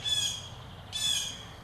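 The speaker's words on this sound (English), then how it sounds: "it looks like we got some birds visiting us here" Birds squawking outdoors, two bright, harsh call bursts about a second apart over a faint low background hum, with no voices.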